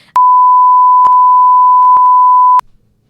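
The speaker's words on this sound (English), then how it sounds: "We can beep that out." A single loud, steady electronic bleep holds for over two seconds, the flat censor tone briefly interrupted by faint clicks before cutting off.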